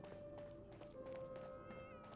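A cat meowing in the video game Fallout 4, several short meows heard under faint background game noise, quiet and fairly close.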